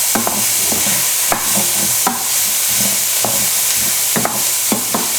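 Chicken pieces stirred in a pot to coat them, with a steady frying sizzle under repeated scraping strokes of a utensil, close and continuous, no talk.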